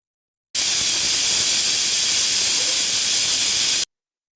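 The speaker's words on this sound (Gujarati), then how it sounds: "હવે ઢાંકણ બંધ કરી અને આપણે એને 5 વિસલ થાય ત્યાં સુધી થવા દઈશું." A pressure cooker vents a steady, loud hiss of steam throughout while drumstick soup cooks inside, a continuous whistle-like rush with no voices.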